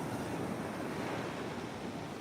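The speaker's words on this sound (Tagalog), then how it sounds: "Yan yung dagat, guys." Sea waves wash steadily onto the shore at San Juan, La Union, a continuous loud surf roar with wind buffeting the microphone and no voices.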